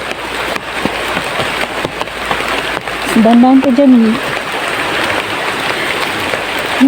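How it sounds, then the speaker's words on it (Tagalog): Heavy rain pours down around a hut, a steady hiss of drops on surfaces under nearby voices, with a brief tonal cry rising over the downpour partway through. "lakas ng ulan dito."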